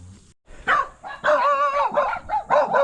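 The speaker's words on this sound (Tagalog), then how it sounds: "Tahol ka na naman." A dog barks in a quick run of several sharp, fairly close barks, with a brief silent gap near the start.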